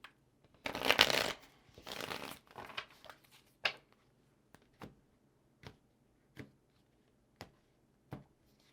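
Two quick riffles of tarot cards being shuffled, followed by a series of soft, spaced taps as the cards are squared and laid down.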